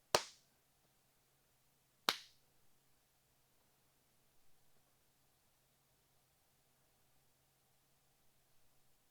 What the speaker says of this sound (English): Clap test.